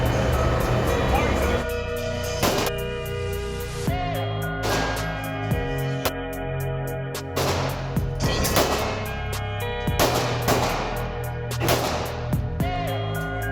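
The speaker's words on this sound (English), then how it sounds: "We've got a rifle and a handgun and the special bullets." Rifle and handgun fire loaded with streak bullets at a night shooting event: sharp, loud reports land every second or two with an echoing tail, while people talk in the background.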